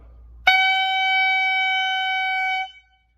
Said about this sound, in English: So the first sounds in the clarinet are not the most beautiful sounds